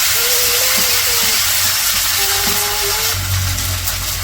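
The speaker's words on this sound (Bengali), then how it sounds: "এখন একটু আদা রসুন বাটা দিয়ে দিব।" Ginger garlic paste sizzles in hot oil with onions and green chilies in a kadai for a village-style fish curry, a loud, steady hiss that runs the whole time with faint clinks of a stirring spoon.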